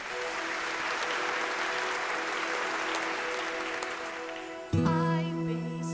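A crowd at a televised Indian singing talent show applauds a performer with steady, thick clapping for several seconds before a music track kicks in and takes over.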